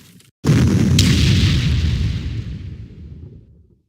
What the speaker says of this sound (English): I'm gonna move my artillery up and hit this guy